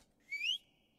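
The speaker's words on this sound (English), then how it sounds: "Alright, I'll whistle again." A single short, rising whistle sounds in the Roblox horror game Apeirophobia, lasting about a quarter second and thin and quiet against a near-silent background.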